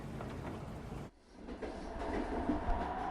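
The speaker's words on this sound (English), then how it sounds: "you're on a sleeper train moving north through the Arctic" Sleeper train rolling north through the Arctic at night, a muffled steady rumble of wheels on rails with a brief dip and a soft clickety-clack, heard from inside a carriage, faint and continuous.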